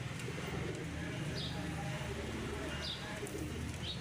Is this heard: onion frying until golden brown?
no